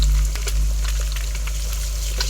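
An egg frying in a pan next to pushed-aside vegetables for egg noodles, giving a steady close sizzle with faint crackles and occasional stirring taps.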